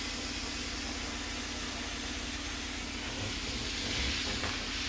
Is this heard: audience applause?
no